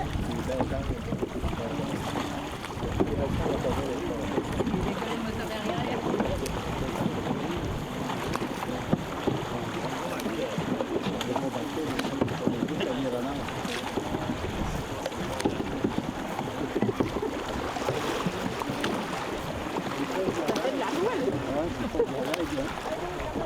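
An outboard motor pushes a boat across a lake on the Lac Abitibi to Lac Témiscamingue route, a continuous rough drone under wind buffeting on the microphone, with voices speaking now and then.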